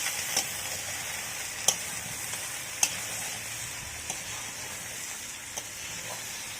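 Young jackfruit and potato fry in a pan with spiced masala, giving a steady bed of sizzling hiss broken by occasional scraping clicks as the mix is stirred. No talk is heard.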